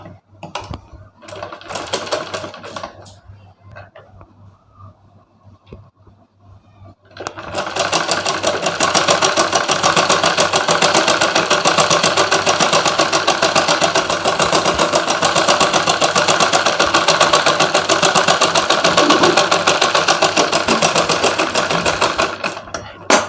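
Sewing machine stitching the lining of a blouse front, starting with a few short bursts and then running loud and steady for a long continuous stretch, alone with no talk.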